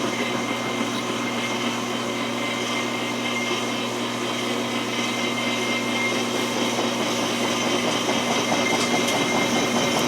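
GE Profile washer/dryer combo shaking hard during its spin cycle after a door seal gasket replacement, a loud continuous rumbling, rattling roar with rhythmic clattering, close and steady with no talk.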